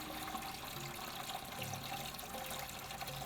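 Water sloshes and trickles during a water change on a planted aquarium, a faint, continuous wet swishing with no voices.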